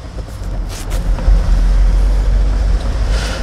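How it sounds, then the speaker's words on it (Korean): Car engine droning steadily under load during a manual-transmission driving lesson, a loud low rumble with rising revs as the driver accelerates without shifting gears, heard from inside the cabin. "소리, 엔진 소리, 엔진 소리."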